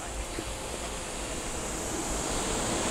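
Ocean surf at Kelingking Beach on Nusa Penida, Bali, a steady broadband wash of breaking waves mixed with wind buffeting the microphone, continuous and fairly loud with no distinct individual crashes.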